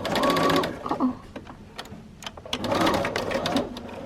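Sewing machine stitching dress fabric, running in two close, steady bursts separated by a short slowdown with lighter mechanical clicks, fairly loud and near throughout.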